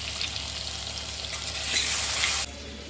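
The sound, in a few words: potatoes frying in a pan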